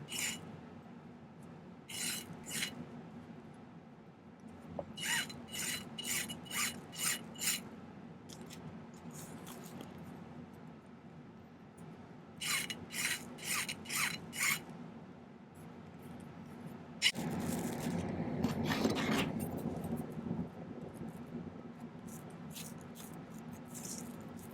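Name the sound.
filing silver ring pieces with a hand file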